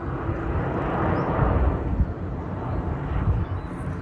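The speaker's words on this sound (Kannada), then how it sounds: "ಇಲ್ಲಿ ಫ್ಲೈಟ್ಗಳ ಸೌಂಡು" A low, steady roar of an airplane passing overhead, rumbling continuously and fairly loud throughout, with no talking.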